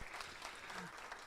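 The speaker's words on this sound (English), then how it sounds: "Please give him a round of applause." A short burst of audience applause at an engineering school conference, fairly quiet and evenly textured clapping from a room of listeners, with a faint voice underneath.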